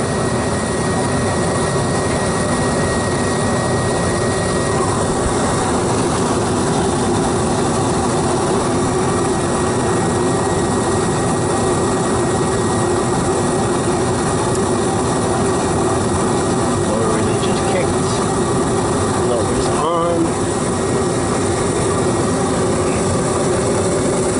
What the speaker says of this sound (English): Let's see how it does when the blower comes on.